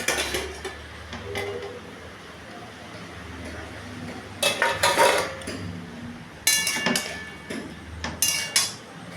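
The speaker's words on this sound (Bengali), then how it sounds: "এবার ঢাকনাটা তুলে দিই, কীরকম হয়েছে।" A metal lid lifts off a cooking pan of simmering pointed gourd and ridge gourd, giving a few sharp clinks and clatters in bursts over a low background hum, with no one talking.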